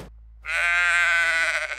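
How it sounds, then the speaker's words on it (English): A single sheep in New Zealand gives one clear, fairly close bleat lasting over a second, with no other sound around it. "there really is a lot of sheep and cows here"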